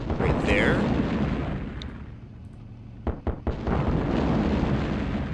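Artillery fire in the World War II strategy game Sudden Strike: a sustained roaring rumble of explosions early on, then a couple of sharp nearby blasts around the middle, followed by a lingering low boom.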